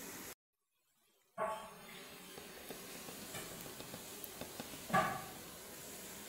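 Garlic frying in a pan for a creamy seafood soup, a soft continuous sizzle after a brief silence, with occasional light stirring scrapes and one louder clink, fairly quiet and close.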